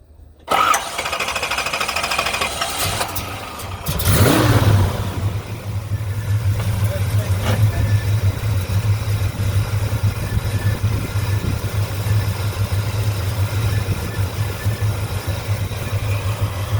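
A 1966 Chevrolet Chevelle SS with a 454 V8 and five-speed manual cranks over and catches, then settles into a steady, low rumbling idle that runs on for several seconds. Faint voices of people standing nearby can be heard under it.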